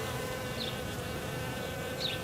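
Honeybees buzz around a hive in March New England while foragers bring in pollen; a steady, close insect hum fills the clip, with a few individual bees passing near and louder.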